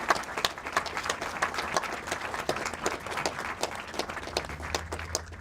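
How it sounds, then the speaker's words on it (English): A crowd claps steadily for students at the ribbon cutting of a culinary and nutrition center, a dense, sustained patter of many hands with no pauses, heard at moderate distance. "And another round of applause for our students."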